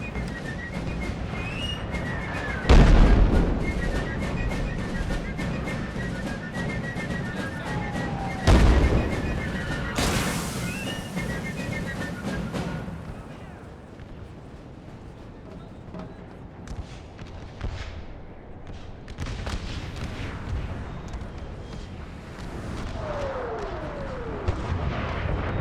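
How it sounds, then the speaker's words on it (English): Artillery booms and gunfire echo across a Napoleon: Total War battle, with two heavy cannon blasts early on, a whistling shot and ongoing crackling musketry, ending in further volleys. "that artillery's getting beat up out there"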